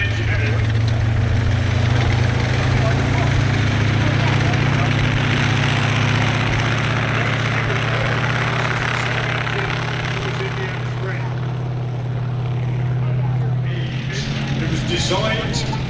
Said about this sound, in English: A radial engine, a continental radial, you can hear it popping away there.